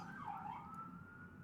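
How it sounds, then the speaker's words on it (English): An emergency siren wails outside a home, one steady continuous tone with a slight sweep, moderately loud above a low background rumble, with no talking. "as we hear a siren right now"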